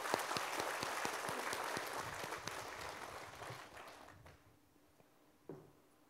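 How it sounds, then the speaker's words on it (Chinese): Audience applause at a Buddhist sutra-recitation gathering: a dense burst of clapping that gradually thins and fades over about four seconds, leaving a quiet room with a single faint knock near the end. "我们大家鼓掌。"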